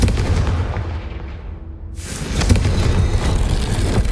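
Confringo blasting spell in the Hogwarts Legacy video game: a loud, dense explosive burst with a rolling roar that briefly thins and then surges again, close and continuous throughout.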